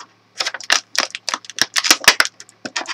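Scissors snip through the cardboard and plastic packaging of a NECA Trick 'r Treat Sam cloth-body figure in a quick run of sharp, close cuts with short gaps, with no talking.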